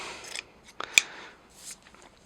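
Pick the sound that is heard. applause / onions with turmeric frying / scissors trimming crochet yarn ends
scissors trimming crochet yarn ends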